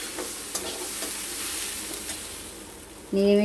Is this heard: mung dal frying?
yes